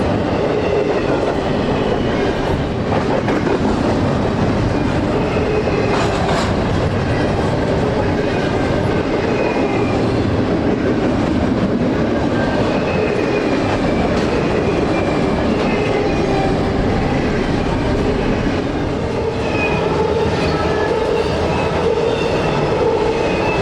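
Norfolk Southern NS-18E, an empty autorack freight, rolls steadily past on Atlanta's north end, a loud sustained rumble of wheels and cars with clattering rail joints and faint squeals throughout.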